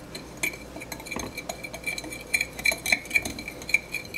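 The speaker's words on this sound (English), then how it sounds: "all we have to do now is give it a good mix up" Dry taco seasoning spices and black pepper are stirred together in a container, giving quick irregular clinks and scrapes of a utensil against the sides, close and fairly crisp, with no talking.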